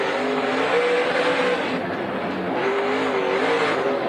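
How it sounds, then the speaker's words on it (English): Dirt-track race cars roar continuously at Eldora Speedway during an SRX Series heat, the driver modulating the throttle so the engine note rises and falls steadily, fairly loud with a broad, gritty wash. "Fun to listen to Tony work the throttle there too, right?"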